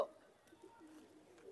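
Faint, low cooing of a pigeon, soft and murmuring against a quiet background, in Delhi.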